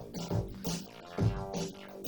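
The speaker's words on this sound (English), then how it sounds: "this is an instrument rack with an acid bass, which is one of the new presets for live, which is using operator synth" Acid bass preset from Ableton Live's Operator synth in an instrument rack, a squelchy, pulsing bass line with rhythmic filter swells repeating in a loop, played fairly quietly.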